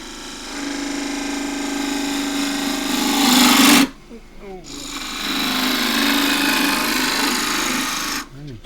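Gouge cutting green elm on a wood lathe, a steady loud shaving hiss and rumble that breaks off briefly near the middle, then resumes for several seconds before stopping.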